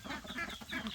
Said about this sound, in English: There's ducks everywhere you look.